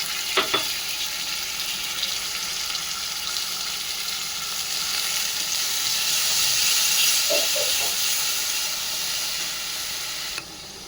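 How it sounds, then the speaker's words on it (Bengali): Green chilli paste, ginger and spices fry in oil while being stirred for ghugni, a steady close sizzle with occasional scraping knocks of the spoon throughout. "এবার ভালো করে কষতে লাগলাম, যতক্ষণ না এটার মধ্যে তেল ছাড়ে আপনি এভাবে কষতে থাকবেন"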